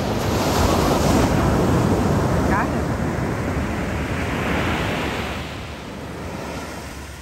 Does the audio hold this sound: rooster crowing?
no